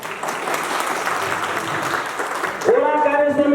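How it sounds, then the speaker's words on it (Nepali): A crowd applauds steadily to welcome party committee members at a Nepali Congress ward convention. A voice on the public address comes in over the clapping near the end. "उहाँहरूलाई ताली बजाएर स्वागत गरिदिनु होला"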